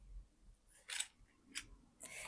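Sharp scissors snip close by in a quiet room: four or five short, crisp cutting strokes in an irregular rhythm, soft and isolated, with no talk.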